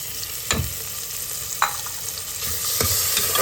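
Tomatoes sizzle as they fry for a pressure-cooker chicken curry, with a steady hiss broken by a few distinct scrapes and knocks of a spoon stirring the pan.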